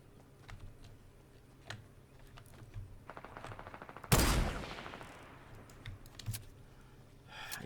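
Rapid bursts of gunfire from a Fortnite match, a loud close volley standing out midway through, with softer clicking of keys and mouse around it and no talking.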